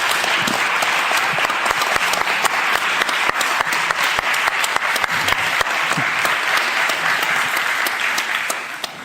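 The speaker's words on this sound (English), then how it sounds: "So those who agree with yes, who think that it's going to collapse, please clap now." An audience at a Brain Bar public debate claps in answer to a yes-or-no vote, a dense, even burst of applause that holds steady for several seconds and then begins to thin out toward the end.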